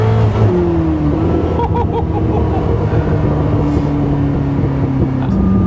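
A Koenigsegg Chimera's turbocharged engine drones loudly and close with a steady, sustained tone whose pitch shifts slightly as it pulls.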